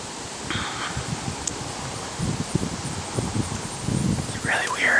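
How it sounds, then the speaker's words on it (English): Wind blows outdoors while walking around town, gusting and buffeting the microphone in uneven rumbles with faint rustling, and a whispering voice talks over it. "Darn wind."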